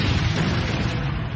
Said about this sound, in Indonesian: Ledakan yang sangat besar kembali terjadi,